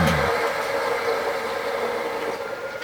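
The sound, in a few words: homemade wood lathe with 300 watt electric motor running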